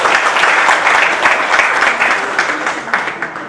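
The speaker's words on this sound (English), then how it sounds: "Would you give them all a round of applause, please?" An audience at a book event in Goa for Rajdeep Sardesai's How Modi Won India breaks into loud, close applause, a thick burst of clapping that stays strong and dwindles slightly at the end.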